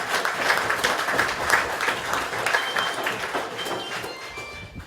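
Audience at a political party regional conference applauds steadily, a broad wash of clapping that fades slightly toward the end, with no speech over it.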